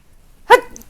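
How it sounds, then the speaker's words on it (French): A person sneezes once, sharp and close, after near silence, followed by another brief burst of breath or sound at the very end. "Excusez-moi, je vais éternuer."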